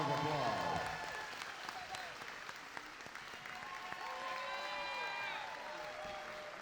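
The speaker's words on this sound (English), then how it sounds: "Y'all give him a round of applause." A crowd at a fight night applauds in a dense, continuous wash of clapping with some cheering mixed in, while voices talk over it.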